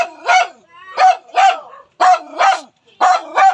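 A dog barks close by in quick pairs and bursts, six loud, sharp barks in a choppy rhythm with short pauses between them.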